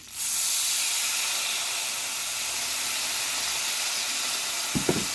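A couple tablespoons of red wine hit a hot pan in a sharp burst of sizzle and steaming hiss, which holds loud and steady for seconds, with a couple of light scrape knocks near the end.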